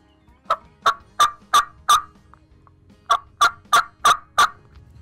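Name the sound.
turkey call imitating turkey sounds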